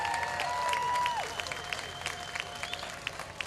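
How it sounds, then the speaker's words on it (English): An audience applauds in a large room, scattered claps trailing off over a few seconds behind a sustained whistle-like tone, moderately distant. "Big round of applause."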